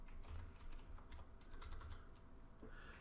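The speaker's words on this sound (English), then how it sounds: "you can see how it's going to look as I'm typing it in now" Quiet, quick taps on a computer keyboard as figures are entered, irregular bursts of clicks with brief pauses, close and alone with no talk.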